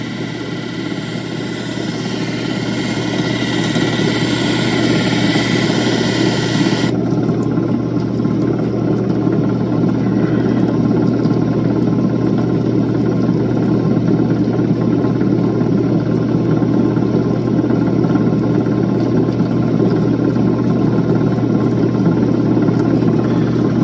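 A 1200 grit lapidary wheel cuts opal with a steady, loud motor hum and grinding whir that runs continuously throughout, with a bright high hiss in the first few seconds that then drops away.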